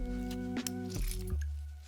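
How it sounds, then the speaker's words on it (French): Lemon halves are squeezed by hand straight into a cocktail shaker while a margarita is being made, giving brief close squishes and drips with a faint clink, over a steady background hum. "je vais me permettre de presser mes citrons dans mon shaker directement"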